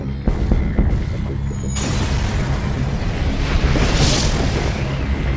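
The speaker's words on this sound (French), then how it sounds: "Le vaisseau explose" A spaceship explodes in the FTL video game as a heavy, rumbling boom that sustains a dense, roaring wash of noise for several seconds, loud and unbroken.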